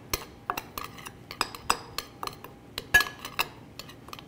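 Red chili pepper, paprika, coriander and curry spices get a quick mix in a bowl, heard as light, rapid metal-on-dish clinks and scrapes of a utensil, close and fairly quiet, with no talking.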